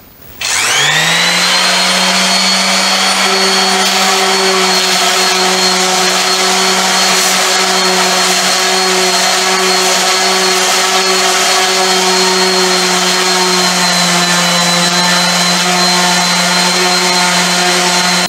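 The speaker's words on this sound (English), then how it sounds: "I'm going to start sanding this thing." A power sander grinds steadily across a live edge wood slab for a waterfall bench, running with 60 grit paper. It holds a loud, continuous whine with a steady hum from start to finish, with no talk.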